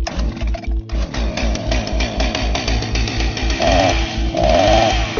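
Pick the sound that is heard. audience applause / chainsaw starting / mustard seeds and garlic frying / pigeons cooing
chainsaw starting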